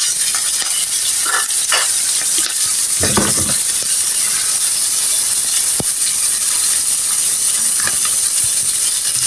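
Onions dropped into a hot frying pan, just after eggs were fried and lifted out, sizzle and hiss loudly and continuously, with a few brief stirring scrapes and no talking.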